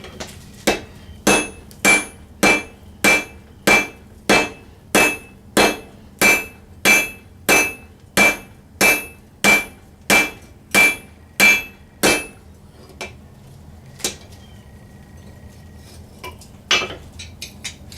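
Steady hammer blows ring out on hot steel while a kama blade is forged, about seventeen sharp metallic strikes in an even rhythm, close and loud, then a pause and a few more scattered taps.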